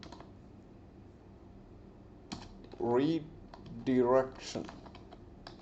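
Typing a folder name on a computer keyboard while setting up a shared folder on Windows Server 2022: a few quick bursts of close, crisp key clicks between pauses, with someone speaking briefly over them.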